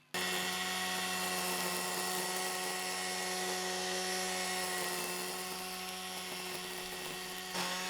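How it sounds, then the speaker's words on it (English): DeWALT 54V FlexVolt string trimmer turned on its side to edge a lawn along sleepers and concrete, giving a loud, steady high-pitched whine that holds constant close by for several seconds, with no talking. "I wanted to try the trimmer for edging as well."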